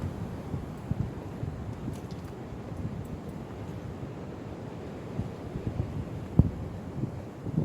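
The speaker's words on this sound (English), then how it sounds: "Then we've got some wind." Wind buffets the microphone beside a fishing bivvy in a continuous low roar with occasional gusty thumps, steady and close, with no voices.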